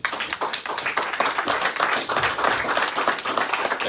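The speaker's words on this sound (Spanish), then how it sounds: "¿Quiénes le dan un fuerte aplauso al Señor?" A church congregation applauding loudly during a Spanish-language service, sustained close clapping from many hands throughout.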